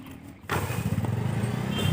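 A motorbike engine starts up close by and settles into a loud, steady running rumble with slight throttle swells; no one speaks.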